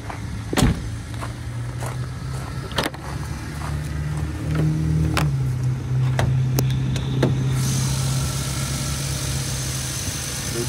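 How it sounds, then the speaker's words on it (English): A 2010 Jeep Wrangler Unlimited's V6 idles steadily and fairly quietly with the hood open, a low continuous hum with a few brief clicks and knocks over it, and the hiss gets brighter toward the end. "Listen to the motor."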